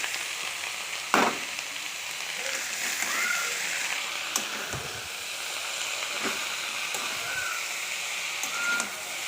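Mixed leafy greens (saag) fry in a pan in a home kitchen, a steady loud sizzle with occasional stirring clinks and scrapes.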